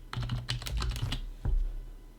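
Quick run of computer keyboard keystrokes entering a password, a dense burst of close clicks, a short pause, then a final firmer key press like Enter, with no talking.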